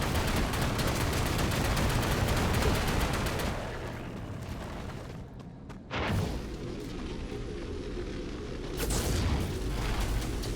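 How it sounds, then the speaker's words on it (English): Rapid gunfire and booming blasts from a grenade fight in the shooter WRATH: Aeon of Ruin, loud and dense for the first few seconds, dropping to a quieter lull, then another sharp burst and renewed heavy firing toward the end. "Throw the fucking grenade!"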